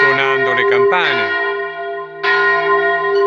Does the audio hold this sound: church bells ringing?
yes